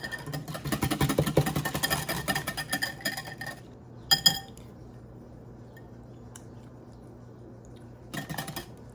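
Ice cream base mixed with extract for a Ninja Creami protein ice cream, with rapid close clinking and scraping of a utensil against a container for a few seconds, then a short burst of clinks and near quiet.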